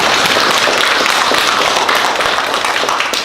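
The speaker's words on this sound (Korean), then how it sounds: "그런 의미에서 서로를 격려하면서 우리 박수 한번 격려하도록 하겠습니다" A church congregation applauds together, dense and loud clapping sustained evenly for a few seconds with no voices on top.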